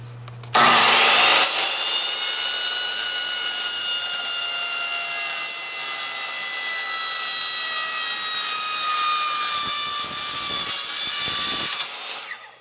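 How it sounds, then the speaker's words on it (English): A Rage Evolution saw blade cutting through old wood and hard sheetrock screws, a loud continuous high-pitched whine and grind lasting about eleven seconds, close up, then winding down at the end. "I'm purposely going to line this up and cut right through these screws."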